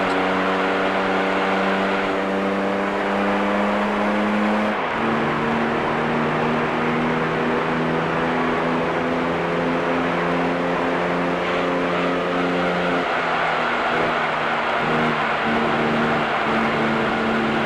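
Race cars packed together on a super speedway in a racing video game, engines droning loud and steady with harmonic tones that shift pitch as the pack runs lap after lap, no talk.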